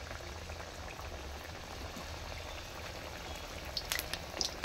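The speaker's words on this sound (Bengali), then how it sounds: "তেলটি গরম হয়ে গেছে। আমি এখন জিলাপিগুলো ছেড়ে দিচ্ছি একটা একটা করে।" Palm-fruit jalebis are dropped one by one into hot oil, making a soft, bubbling fry that stays faint and even, with a few sharper spatters near the end.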